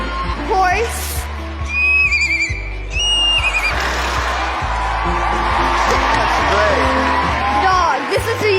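A girl imitates a horse neighing with her voice: a loud, close whinny with shaking, falling pitch, and a low steady hum underneath.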